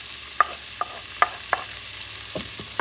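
Onions going into a pot for a barley and pork rib stew on medium-high heat, a soft steady sizzle with several sharp stirring clicks and scrapes spaced irregularly, fairly quiet and close, no talking.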